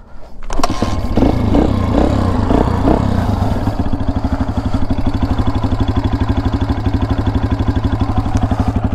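A motorcycle engine cranks, catches and starts, revving up briefly before settling into a loud, close, rapid idle chug that continues steadily.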